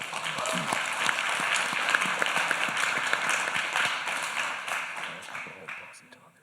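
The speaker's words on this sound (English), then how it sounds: "can I ask the audience, please hold your applause until the answer has been completed by the candidate" Applause from a town hall audience at a county GOP candidate forum, a dense wash of clapping with some distinct sharper claps, joined by overlapping voices, tapering off near the end.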